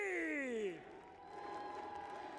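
A live fighting game tournament crowd applauds and cheers as player ET is brought on for an interview at the quarterfinals stage, with a swelling wash of clapping rising under a host's voice.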